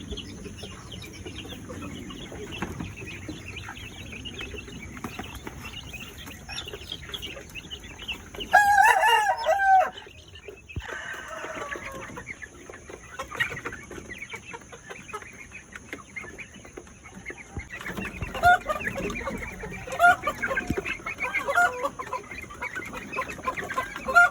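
Chickens cluck around the yard, and a rooster crows loudly twice, once midway and again near the end, over faint background noise during strong typhoon wind. No speech.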